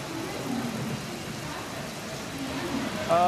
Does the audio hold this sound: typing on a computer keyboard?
no